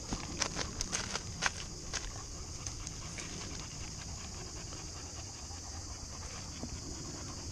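Dogs panting rapidly in hot weather, a close, quick rhythmic breathing that runs throughout, with a few light footsteps or shuffles near the start.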